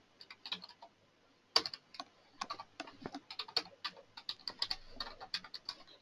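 Keys clack on a computer keyboard in irregular bursts of quick, crisp taps, close and fairly quiet, with a short pause near the start and no voices.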